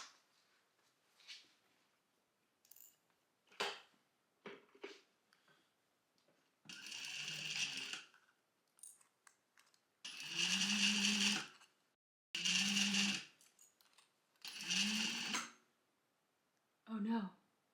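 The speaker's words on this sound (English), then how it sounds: "now I gotta sew these cuffs down" A sewing machine stitching down the cuffs of a wool coat, running in several short loud bursts of whirring stitches separated by pauses with quiet handling noises in between.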